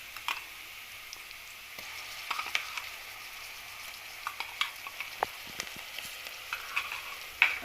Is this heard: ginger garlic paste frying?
yes